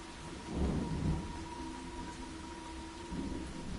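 Thunder rumbles low and heavy through steady rainfall, with a swell of rolling thunder near the start and a hiss of rain continuing throughout; no voices.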